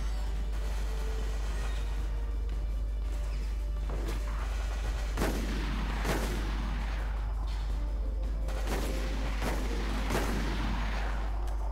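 Rocket explosions and gunfire from a Resident Evil: Operation Raccoon City match, sharp loud blasts repeating every second or so over continuous game ambience, each burst ringing out with a rumbling tail.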